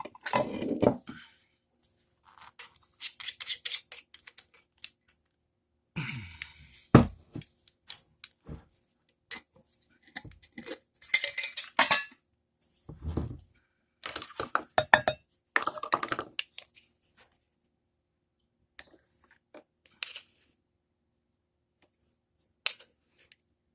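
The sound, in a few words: mixing muffin batter with a fork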